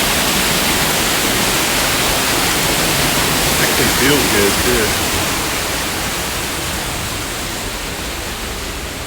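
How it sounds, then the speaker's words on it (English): Rushing water from a waterfall along an Animal Kingdom walking trail, a loud, steady broadband roar filling the scene, with a person talking faintly underneath. "I don't know if you can hear me, but that's the backside of water."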